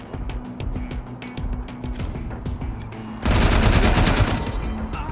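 Rapid bursts of weapon fire from the Wasteland 3 video game crackle in quick succession, swelling into a louder, denser volley partway through.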